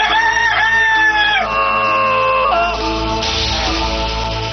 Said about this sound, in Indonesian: Suruh ayam lu berhenti memperdengarkan suara yang fasik.